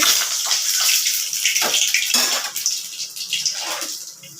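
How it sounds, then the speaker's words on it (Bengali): Nigella seeds tempering in hot oil in a wok give a dense, steady crackling hiss, close and fairly loud, with a few brief surges and sharper pops as it carries on alone. "এখানে কড়াইতে তেল দিয়ে দিয়েছি কালো জিরা ফোড়ন দেব"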